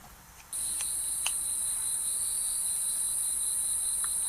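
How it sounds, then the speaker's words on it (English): Crickets chirp at night in a dense, high, continuous trill that begins suddenly and holds steady, with a few faint clicks scattered underneath and no voices. "Crickets."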